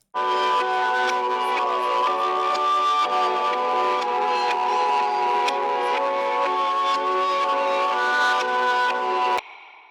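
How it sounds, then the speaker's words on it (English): A Trap Cymatics starter-pack melody, pitched up 600 cents and reversed, plays as sustained swelling synth tones with backward-building notes, loud and alone for about nine seconds before cutting off. "I then pitched it up 600 cents and reversed it"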